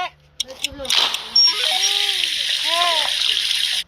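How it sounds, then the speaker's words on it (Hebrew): Water poured into a vessel for coffee, a steady trickling splash after a few clinks, with a rising gurgle as the container fills, heard close and alone. "שים לי מים לקפה."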